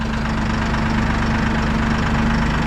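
A Massey Ferguson 1E.40 compact tractor engine idles loudly and steadily with a low, even throb and a constant hum while the loader is raised, close and uninterrupted.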